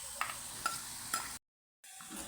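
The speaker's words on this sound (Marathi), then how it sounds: "याच्यामध्ये आता 5-6 पाकळ्या लसूण टाकून घेऊ ठेचलेला।" Crushed garlic cloves go into onions frying for a tempering in a pan, giving a steady close sizzle with a few sharp stirring scrapes. The sound cuts out briefly, then the frying hiss returns.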